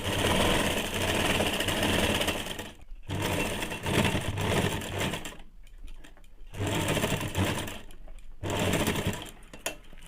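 A sewing machine stitches the side seam of a ladies' pant in loud, sustained runs, halting briefly three times between bursts.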